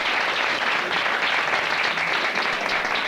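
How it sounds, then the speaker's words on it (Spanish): Conference audience applauding a speaker, a dense, steady wash of many hands clapping at once, loud and sustained with no pause. "So let's que, give Mark a wonderful hand."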